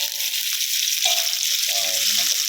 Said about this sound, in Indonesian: Oke, bawang putihnya kita tumis.